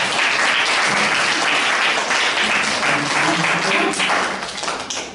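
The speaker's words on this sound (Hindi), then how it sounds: "आप अपने लिए एक बार ताली बजाएं।" Audience applause at a Brahma Kumaris National Girl Child Day gathering in Ratlam, a steady dense wash of many hands clapping at full volume, thinning slightly toward the end.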